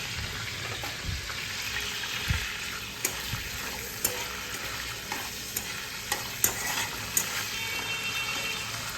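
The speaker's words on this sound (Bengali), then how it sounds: "এবার হচ্ছে ফোড়ন দেবো হচ্ছে জিরে, তেজপাতা শুকনো লঙ্কা" Cumin, bay leaf and dried chili crackle and sizzle in hot oil in a pan, a steady near frying hiss with scattered sharp pops and light stirring scrapes throughout, no talking.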